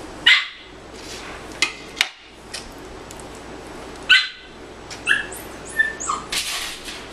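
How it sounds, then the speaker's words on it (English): A dog barks and yips outdoors in short, scattered bursts, some whimpering between them, heard at a distance over a quiet steady background hum. "The dog's barking outside."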